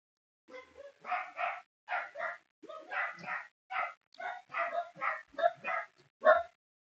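A dachshund gives a series of about a dozen short, close barks and yips in an uneven rhythm, with quiet gaps between them.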